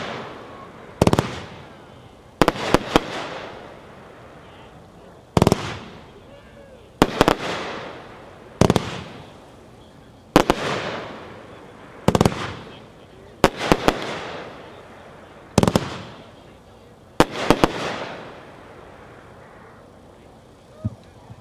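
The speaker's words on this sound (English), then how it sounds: "Number 9, Fireflies by Neon Fireworks, packed 4-1, 24 shots." Fireflies by Neon Fireworks, a 24-shot cake, fires loud, evenly spaced launches, each a sharp thump followed by a crackling burst and fading tail, repeating about every two seconds.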